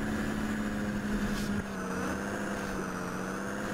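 A Toyota Coaster bus engine drones loudly and steadily while the bus travels a very narrow road in Honduras, with a constant low hum and a slight shift in pitch midway.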